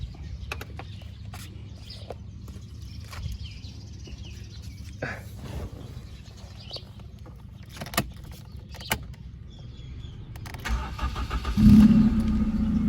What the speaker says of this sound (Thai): เดี๋ยวผมจะสตาร์ทเครื่องยนต์ให้พี่ ๆ ได้ รับฟังเสียงกันนะครับ